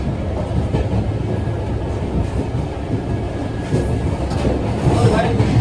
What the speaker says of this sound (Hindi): यहाँ पर हमारे ट्रेन का पैरेलल रन साबरमती एक्सप्रेस के एम्प्टी रैक के साथ हो रहा है